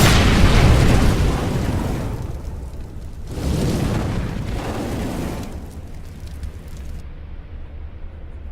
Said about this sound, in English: Incendiary out.